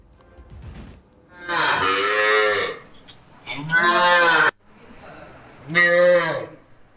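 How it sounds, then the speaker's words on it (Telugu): Rare short dwarf cows in Kakinada moo three times, each a long, clear, close call with quiet gaps between them. "చిన్న సైజు ఆవులను పెంచుతున్నాడు"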